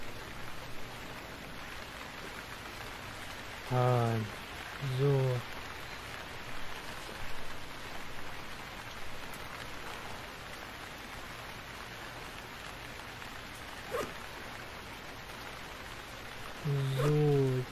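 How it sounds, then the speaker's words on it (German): Steady rain in the survival video game Stranded Deep, a continuous hiss of falling drops throughout, with a few short spoken words over it. "kann man dieser 28-Bit-Regen aufhören?"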